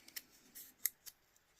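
Scissors snip dried painted paper in a quiet room, giving several short, crisp cuts spaced irregularly, with one sharper snip near the middle, all close and fairly soft.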